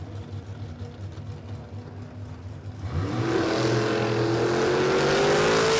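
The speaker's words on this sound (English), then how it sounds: "Nice little wheels up launch there for Otto." A yellow T-bucket hot rod launches wheels-up at Warwick Dragway, with a low idle rumble giving way to a sudden roaring engine surge that climbs in pitch and stays loud and close to the end.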